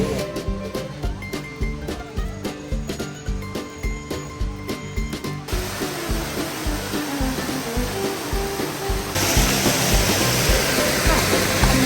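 Rushing water of Mae Kampong waterfall near Chiang Mai, Thailand roars steadily, growing louder and fuller partway through, with a rhythmic pulsing in the background at first.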